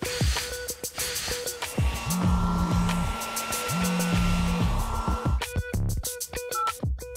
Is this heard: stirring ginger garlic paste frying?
no